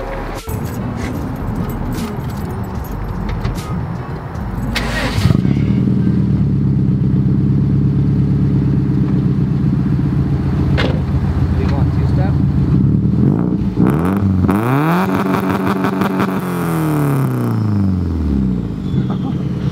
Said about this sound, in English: it has a really bad exhaust